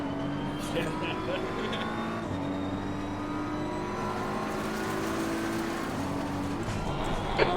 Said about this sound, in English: Or maybe the engine is so loud for him.